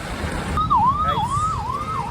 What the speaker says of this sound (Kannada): ದಯವಿಟ್ಟು ಆಂಬುಲೆನ್ಸ್ಗೆ, ಈಗ ಎಲ್ಲೇ ಟ್ರಾಫಿಕ್ ಇದ್ರೂ ಆಂಬುಲೆನ್ಸ್ಗೆ ಜಾಗ ಬಿಡಿ.